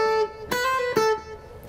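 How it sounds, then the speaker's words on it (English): Electric guitar playing a quick hammer-on and pull-off in a scale, three clean picked-sounding notes close up with ringing harmonics and no voice. "That is a hammer-on and a pull-off."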